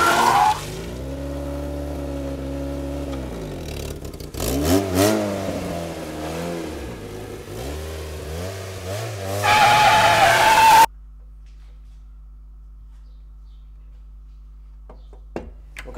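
A car skids and slides on muddy ground, its engine revving hard and rising and falling in pitch. Loud and close for about eleven seconds, then it cuts off to near silence.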